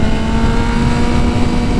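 A BMW M1000RR sport motorcycle engine revs steadily at high RPM during break-in, a continuous close, loud mechanical drone with a strong steady tone and no talking.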